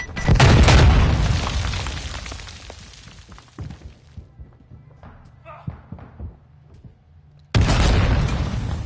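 A cluster mine detonates in Warzone 2 as a loud, close boom that bursts with heavy low rumble and a bright crackling wash, decays into scattered debris pops, then a second strong blast surges back near the end.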